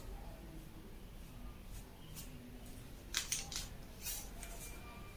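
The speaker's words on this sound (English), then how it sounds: "We are going to trim off this part." Scissors snip through skirt fabric during trimming, a few quiet cuts clustered near the middle and end, close and faint against a soft room hush with no talking.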